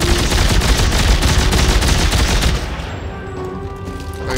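Pulse rifle firing on full auto in Dead Space 3, a loud, dense, rapid burst that runs for about two and a half seconds and then drops to a quieter tail of echoing reports and ambient game noise.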